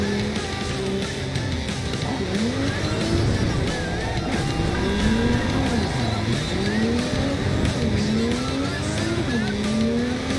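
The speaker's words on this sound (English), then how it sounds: "Yeah, I think this car's durable, right? It's a Nomad car." A Nomad car is driven in the video game Cyberpunk 2077. The engine drones and revs continuously, rising and falling in pitch with tire squeals, loud and steady in the game mix.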